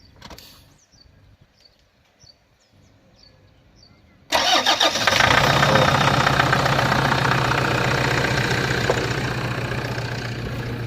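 A Toyota Hilux with a freshly repaired starter and bendix drive cranks and catches abruptly after a quiet stretch, then settles into a loud, steady idle close by.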